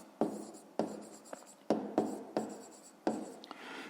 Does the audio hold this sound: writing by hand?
yes